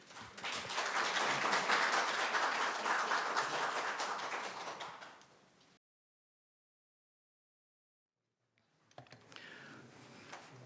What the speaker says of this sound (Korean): 먼저 황성현 박사님 박수로 초대하겠습니다.